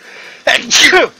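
A single loud, close sneeze bursts out after a brief quiet moment.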